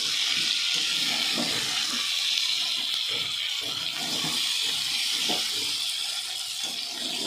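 Water poured into a cooking pan of spiced turmeric, chilli and salt mixture, a continuous gushing splash that holds steady for several seconds, close and fairly loud.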